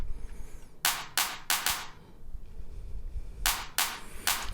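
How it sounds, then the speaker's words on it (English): An isolated clap track from a drum mix, with sharp, bright claps in an irregular pattern of about seven hits, some in quick pairs, each followed by a brief reverb tail over a low background hum. "This is my clap track. If I isolate it, it sounds like this."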